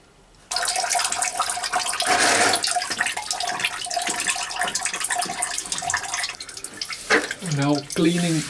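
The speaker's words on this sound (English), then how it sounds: "unscrew the drain plug. And the oil is draining out." Engine oil from an Opel Corsa D 1.3 CDTI pours from the open drain plug, a steady close splashing trickle into a pan that runs continuously, with a voice speaking near the end.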